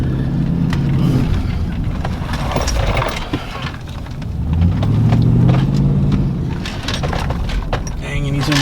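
A pickup truck on oversized tires with a leveling kit rumbles along on a test drive with new brakes. Its low engine drone swells and eases while tires rub and scrape, and a voice speaks over the road noise.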